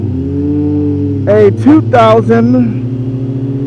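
A 2004 Kawasaki ZZR 1200 motorcycle engine humming steadily while riding, a constant low drone beneath a voice talking briefly over it.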